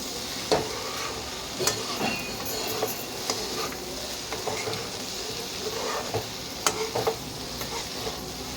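Close scraping and clinking of a spatula stirring a carrot and potato fry in a pan, with a low sizzle running underneath and sharp intermittent taps against the metal.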